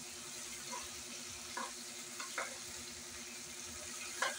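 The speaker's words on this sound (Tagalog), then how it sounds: "I-mix mo na siya. Halu-haluin mo para di masunog." Chicken adobo with potatoes sizzles in a pan as it is stirred, a soft, continuous frying hiss broken by a few scraping knocks of the utensil, with no talking.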